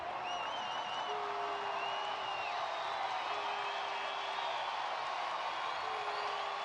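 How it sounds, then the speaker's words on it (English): A large crowd at Angel Stadium, the Big A, rises to its feet during a Mariners versus Angels baseball game, making a steady, distant roar of cheering and scattered whoops under the ballpark ambience. "Rojas calls time to settle the crowd as they come to their feet here at the Big A"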